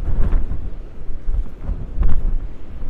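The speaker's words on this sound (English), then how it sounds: "it is bloody windy" Strong seaside wind buffeting a microphone on the Ayrshire coast in Scotland, a loud continuous low rumble with gusty surges throughout.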